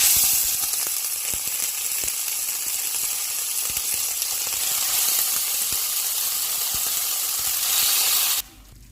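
Chicken steaks sizzle in two tablespoons of hot oil in a pan, a loud, continuous frying hiss that holds steady and then cuts off abruptly near the end.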